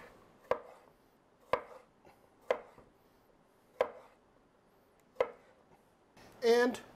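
Five crisp, evenly spaced knife chops strike a cutting board as a green bell pepper is cut into pieces, with quiet gaps between blows and a short clattering burst at the end.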